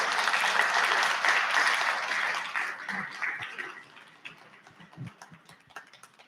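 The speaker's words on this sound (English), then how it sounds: "I would like for you all to give yourself a giant round of applause" Indoor audience at a premiere party clapping loudly, the applause thinning out over a few seconds into scattered individual claps before fading away.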